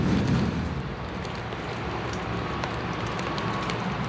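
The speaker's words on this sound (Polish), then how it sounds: "Deszcz leje niesamowicie." Steady, dense rain pours down with a constant hiss and patter, a continuous wash of noise with no pauses.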